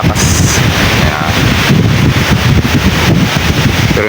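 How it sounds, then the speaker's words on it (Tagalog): Strong gusting wind at sea during typhoon Crising, heard from a fishing boat, roaring loudly and continuously with heavy buffeting thumps on the microphone and churning water beneath. "Yung mga hangin lang yung malakas."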